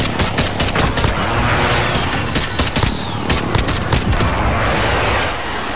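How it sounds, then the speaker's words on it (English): Dense game gunfire and airstrike explosions in an online shooter, a loud continuous barrage of rapid machine-gun bursts and booming impacts that barely lets up, with no talk. "Bringing down an airstrike."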